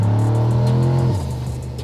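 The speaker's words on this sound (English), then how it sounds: "Acceleration without even getting up to speed is so intoxicating." Turbocharged 1000hp Chevrolet Trailblazer SS engine accelerating hard at low speed, a loud steady roar that climbs in pitch before easing off and settling into a lower drone, with no talk over it.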